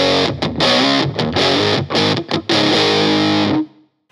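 An electric guitar runs through an inexpensive fuzz pedal with a buffer fuzz interface set to 0. It plays a loud, heavily distorted riff of short choppy bursts, then holds a final note that cuts off.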